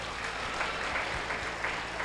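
An audience in a church claps in a steady, fairly even patter of many hands for about two seconds, with faint voices underneath.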